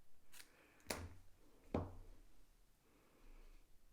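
Scissors snipping ribbon ends from the back of a bow, two distinct close cuts with light rustling between them in an otherwise quiet room.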